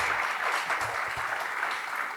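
An audience at a literary talk event in Paracatu gives a brief, steady wash of applause, moderately loud and evenly sustained for about two seconds with no speech over it.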